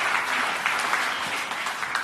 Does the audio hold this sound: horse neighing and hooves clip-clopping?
no